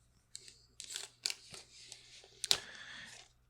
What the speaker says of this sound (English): So let me unwrap this guy here.